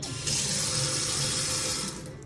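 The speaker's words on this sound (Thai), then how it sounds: "น้ำปกติเลย เปิดได้" Water runs steadily from the tap into a kitchen sink in a rental condo, a close hissing splash that holds for about two seconds and then tapers off, with no voices.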